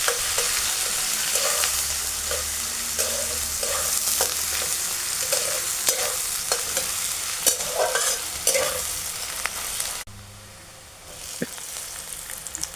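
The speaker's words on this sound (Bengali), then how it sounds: "পেঁয়াজ কুচিটা কিছুক্ষণ ভেজে নিয়ে তারপর দেবো টমেটো কুচি।" Chopped onion sizzles steadily in a hot pan while a spoon scrapes and stirs it in regular strokes. The frying hiss stays close and continuous, then briefly drops away near the end before resuming more quietly.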